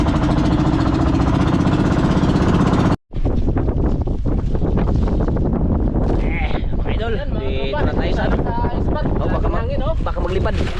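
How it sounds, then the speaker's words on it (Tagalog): Steady wind buffets a boat out on the sea in a brisk northeast monsoon breeze, roaring loudly and continuously with a brief dropout near the start, and someone talks over it. "Medyo mahangin-hangin amihan"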